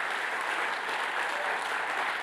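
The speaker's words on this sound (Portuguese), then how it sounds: "Dê uma salva de palmas para Jesus" A church congregation at a Baptist service claps together in steady, dense applause, filling the space evenly from start to finish with no voices rising above it.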